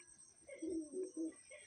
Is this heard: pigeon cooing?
yes